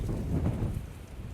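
Wind gusting steadily through a garden, a broad, low rushing roar that swells and eases, loud and close with no voices.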